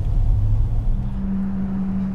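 A 2021 RAM 1500 Built To Serve special edition pickup truck accelerating, a brief, close, deep engine rumble whose steady low drone rises slightly in pitch.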